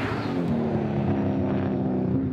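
A GT3-spec race car powered by a 7-litre LS7 V8 roars steadily nearby, a loud, sustained engine drone with a low harmonic rumble, no voices over it.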